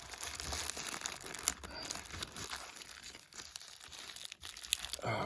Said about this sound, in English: yep, it looks like it's got cellophane on it